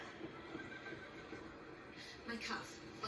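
A horse neighs in a period drama scene, a whinny rising briefly near the end of the stretch over a steady background of hoof clatter and ambient noise; no speech is heard.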